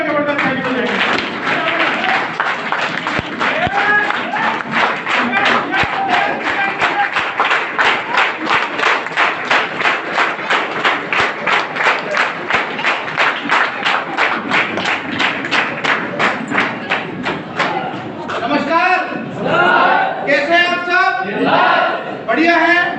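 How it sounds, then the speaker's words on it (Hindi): Audience at a team celebration event in Khurja gives a standing ovation: loud, sustained applause close by with rhythmic, unison clapping that breaks into looser clapping and cheering near the end. "खड़े होकर जबरदस्त ताली बजाएंगे।"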